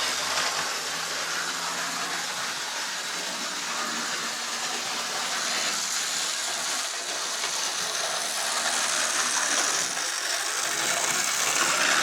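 An old Lima model train locomotive runs around a set with a tight radius 1 curve, giving a steady whirring, ratcheting gear-and-motor noise that holds close and continuous for the whole stretch.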